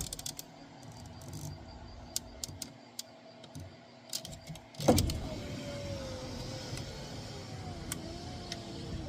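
The power window of a parked truck whirs as it rolls up, a steady motor whine lasting several seconds. Faint crickets chirp in the quiet night around it, with scattered soft ticks beforehand.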